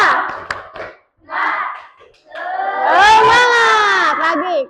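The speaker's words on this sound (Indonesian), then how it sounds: "Tepuk semangat." A group of school students in a classroom claps the rhythmic 'tepuk semangat' routine. Short bursts of clapping are followed by loud voices chanting together, close by.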